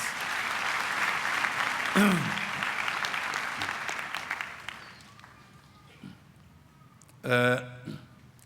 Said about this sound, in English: Let's give them a round of applause even in their absence